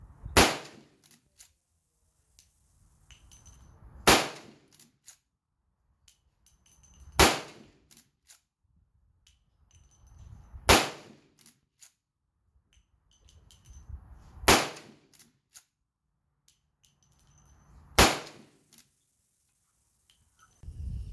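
Rossi 92 lever-action rifle firing .38 Special and .357 Magnum rounds outdoors, six sharp reports spaced roughly three to four seconds apart, each trailed by quieter clicks and clatter of the lever cycling.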